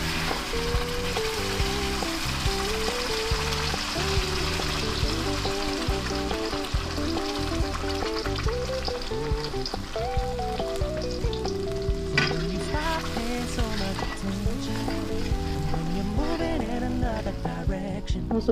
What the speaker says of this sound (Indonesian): sekarang kita numis bumbu yang sudah di blender ya